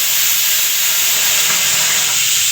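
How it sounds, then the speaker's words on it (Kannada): A pressure cooker cooking rice on a kitchen stove vents steam in a steady, loud, unbroken hiss that fills the whole short stretch, with no voices. "ಅನ್ನ ವಿಷಲ್ ಕೂಗ್ತೈತೆ"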